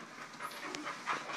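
A dog pants steadily and quickly at close range indoors, a soft continuous breathy rhythm while a baby in knee pads crawls nearby.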